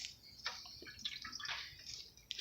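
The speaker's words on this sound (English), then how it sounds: "There's a bunch of black soot just dripped out." Black-sooty water from a Farmall Cub tractor radiator drips out in a few quiet, irregular splashes, with no talking.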